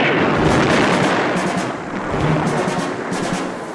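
A volley of gunfire rumbles from a TV action show, a continuous noisy barrage of heavy shots with swelling and fading booms throughout, no voices over it.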